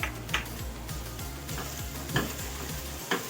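Garlic and ginger sizzle in a pan ahead of mutton for achar gosht, stirred with a spoon; a steady close frying hiss runs under repeated rhythmic spoon taps and scrapes, with no voices.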